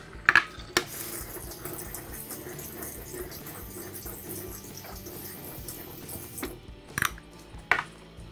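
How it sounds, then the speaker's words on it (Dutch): Cold water runs from a kitchen tap over tomatoes being rinsed, a steady quiet hiss with a few sharp clinks and knocks against the sink or dishes. "daarna afspoelen onder de koude kraan"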